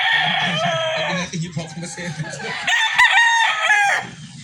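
White Leg Sweater gamefowl rooster crows loudly nearby, a clear cock-a-doodle call followed by a second crow with some clucking in between.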